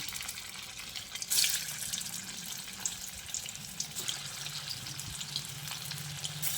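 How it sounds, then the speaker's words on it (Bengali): Soy kebabs sizzle and crackle steadily in hot oil, with a sharper hiss early on as pieces drop in. "এবার এই তৈরি করে রাখা সয়াবিনের কাবাবগুলো এই গরম তেলের মধ্যে একে একে ছেড়ে দিচ্ছি।"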